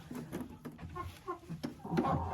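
Backyard hens cluck in short, soft, irregular bursts close by, with a rougher, louder squawk rising at the end; no one speaks.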